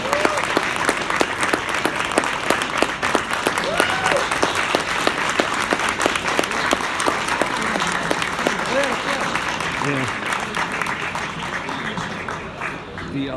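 Sustained audience applause at a WinterCon 2017 Blade Runner convention panel greeting guest Kevin Thompson, a dense, even wash of many hands, with cheers and whoops rising through it before it thins out near the end.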